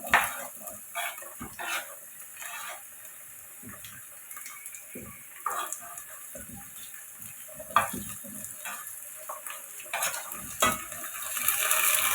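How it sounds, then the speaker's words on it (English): Chopped capsicum and tomatoes frying with onions in a pan for a Swahili coconut beans dish, a soft steady sizzle broken by scattered stirring scrapes and clinks of utensils, no talking. "So I'm going to add my capsicum and tomatoes."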